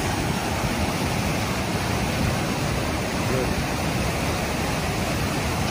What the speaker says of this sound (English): because of all the rain, it's moving